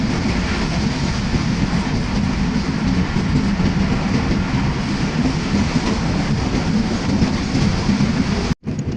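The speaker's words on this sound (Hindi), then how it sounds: "और ट्रेन काफ़ी तेज़ हो गई है।" A fast train rolls on its rails, giving a loud, continuous rumble and rattle of the carriages that cuts off briefly near the end.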